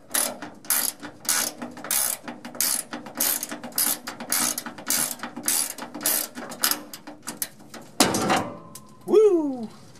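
A ratchet wrench clicks steadily, loosening 35-year-old bolts on a 6.2/6.5 turbo diesel engine, in quick close bursts of pawl clicks; a short bird-like squeak follows at the end.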